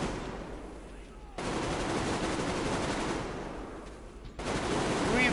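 Gunfire in Metro: Exodus breaks out in two sustained bursts of rapid shots, loud and dense, with a brief lull between them.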